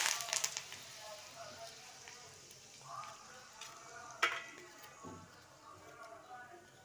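Mustard seeds and curry leaves sizzle and crackle in hot oil, a quiet frying hiss with scattered sharp pops and spatters, faint and close, with no talking.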